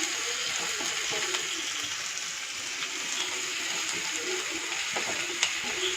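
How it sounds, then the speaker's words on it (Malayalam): Onions sautéing in a pan for a vegetable noodle dish, a steady soft sizzle with faint scraping and stirring throughout, moderately quiet and continuous with no talking. "സവാള വഴറ്റി കൊടുക്കാം."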